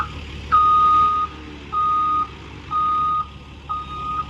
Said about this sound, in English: We might have to pull the truck up a bit.